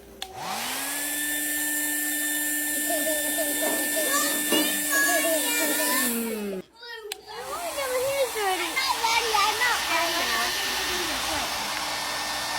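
A hair dryer blows steadily at a small model house for about six seconds, cuts off briefly, then gives way to children's excited voices and chatter over a faint lingering hum.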